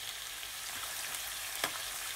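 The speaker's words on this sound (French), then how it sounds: "Donc on va faire rôtir les tranches d'ananas tranquillement dans cette huile de coco." Pineapple slices roast in coconut oil in a pan, giving a steady soft sizzle throughout with one brief louder clink or stir near the end.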